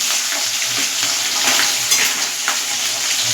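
Loud, steady sizzling of tengra catfish frying in hot oil in a pan, a dense crackling hiss with a few light scrapes, no voices.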